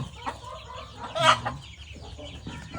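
Chickens and two-month-old chicks cluck and chatter nearby, with one louder squawking call standing out amid a continuous busy murmur of fowl.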